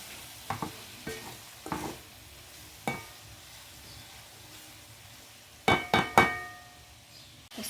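Carbonara pasta is stirred in a pan, with a soft sizzle under it and a handful of distinct scraping, clinking utensil strokes against the pan, spaced irregularly with a busy cluster near the end.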